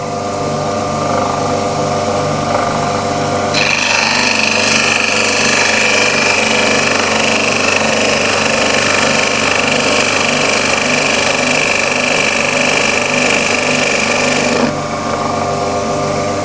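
A plaster dental study model is ground on a model trimmer at a 65-degree angle, producing a loud steady motor whine overlaid with a harsh grinding rasp that starts partway in and cuts off near the end.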